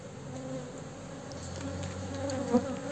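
Honeybees hum steadily around an open hive that is being split into new boxes, a continuous close buzz with a few brief louder passes near the end.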